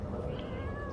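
One of three sweet rescue cats meows faintly against a dense bed of background noise, a single soft rising call that's easy to miss.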